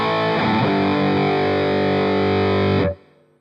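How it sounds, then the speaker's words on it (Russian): An electric guitar driven through a Tube Screamer overdrive into a Line 6 Spider V 20 combo amp rings out a sustained, gritty distorted chord that holds steady for nearly three seconds before being abruptly muted. "воткнем Tube Screamer, допустим"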